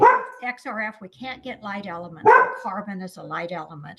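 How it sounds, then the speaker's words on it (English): Dog barking and yipping in the background while a person speaks continuously over it, the barks intermittent and partly masked by the voice. "I apologize for the dog."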